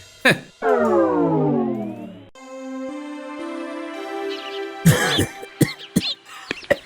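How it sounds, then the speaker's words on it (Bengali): A man gives a few sharp, close coughs and clears his throat, framed by a sliding whistle-like cartoon effect and a sustained tone, in a comic animated scene. "আপনার তো দেখছি ভালোই কাশি হয়েছে"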